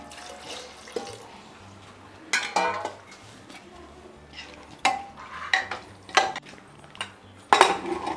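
Metal clinks and clatters from a pot and ladle as coconut milk goes into a beef curry with potatoes, sparse irregular knocks spread across the moment, fairly close, with quiet pouring in between.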